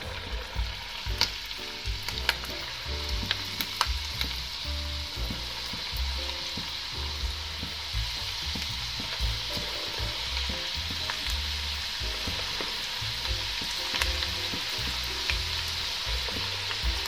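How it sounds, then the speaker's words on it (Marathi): Steady crackling sizzle of methi (fenugreek) sticks deep frying in hot oil in a kadai over medium flame, continuous and close, with occasional sharper pops throughout. "आता आपण मेथीचे स्टिक तळून घेऊया"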